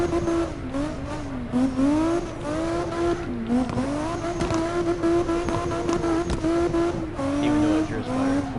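A car drifting in CarX Drift Racing on PS4, played in fourth gear, its engine holding a steady high drone with repeated revving rises and falls, tires squealing through the slides, loud and continuous throughout.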